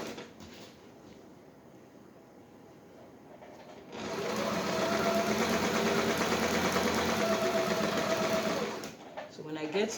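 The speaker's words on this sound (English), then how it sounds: "So you put this apex under the sewing machine, put down your needle," After quiet handling noises and faint speech, a sewing machine whirs into a fast steady stitching run for several seconds, then stops.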